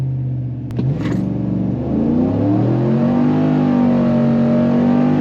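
A 2020 RST truck with a tuned transmission makes a loud, close full-throttle pull, the engine note dropping at a gear shift and then climbing steadily.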